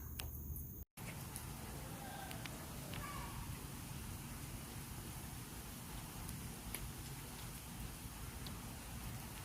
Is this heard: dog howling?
no